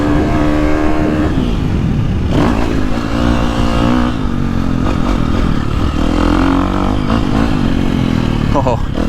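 A 2023 KTM 350SXF motocross bike engine revs hard while riding, loud continuous buzzing with rising and falling throttle and some clatter, with talking over it.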